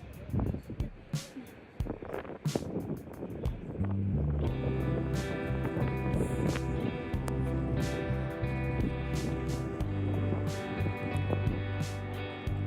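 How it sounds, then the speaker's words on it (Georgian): A boat bus approaches across the water in Copenhagen, its low engine rumble swelling in after a few seconds and holding steady under breezy wind noise and faint background voices. "აი ეს არის ჩვენი boat bus-ი და ეხლა მოვა და მე გადაგვიყვანს ოპერაში."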